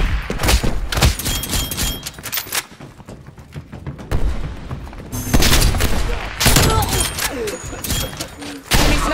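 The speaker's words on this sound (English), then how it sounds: "Enemy sniper shooting." Video game combat with an enemy sniper shooting: loud, repeated gunshots and booms in irregular bursts, with dense battle noise between them.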